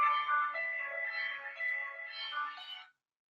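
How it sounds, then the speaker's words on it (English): A phone rings with a melodic electronic ringtone, a tune of clear tones that plays for roughly three seconds at moderate volume, alone without talk, before stopping abruptly. "Our phone just rang."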